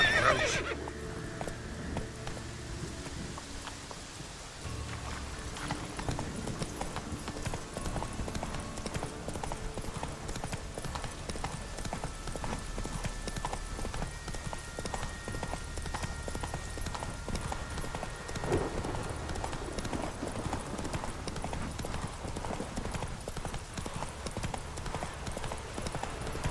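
Roach, the horse in the video game The Witcher 3, gallops with a steady stream of hoofbeats over the whole stretch, mixed with game ambience, a brief whinny and occasional low background sounds.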